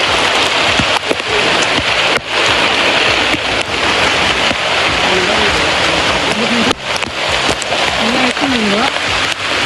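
Heavy first monsoon rain pours steadily and loudly close by, a dense continuous hiss with occasional knocks, while someone talks briefly over it.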